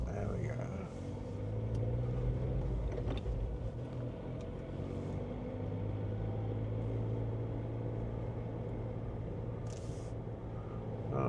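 A car idles and pulls away in traffic at a London junction, heard from inside a vehicle as a steady low engine rumble with a mild rise in revs, fairly quiet throughout.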